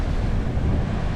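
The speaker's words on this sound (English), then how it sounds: "It's raining, it's windy, but still beautiful." Steady wind buffeting the microphone aboard a boat on the Illinois River, with a continuous low roar and broadband rushing noise, rain and surf blending in, no voices.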